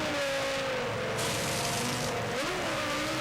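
A Formula 1 car at the 2001 Brazilian Grand Prix revs hard in the pit lane while the refueling rig is stuck. The engine holds a loud, sustained high-pitched roar, dipping and climbing again partway through.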